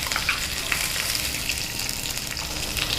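Green chillies crackle and sizzle steadily in hot refined sunflower oil during a South Indian tempering with mustard seeds and curry leaves, a close, continuous frying hiss with no talking.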